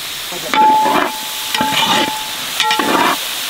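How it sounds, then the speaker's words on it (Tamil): Curd is poured into cubed yam and masala frying in a pan for a wedding-style yam cutlet, giving a sizzle with three bursts of stirring and scraping over a steady frying hiss. "அதுக்காக நம்ம தயிர் ஊற்றிக்கலாம்"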